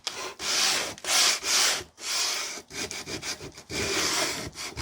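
A wooden jewelry box being sanded by hand, heard as rhythmic rasping strokes, loud and close, in repeated back-and-forth bursts.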